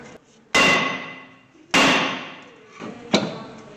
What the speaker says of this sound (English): So now I take the hammer and beat this thing off.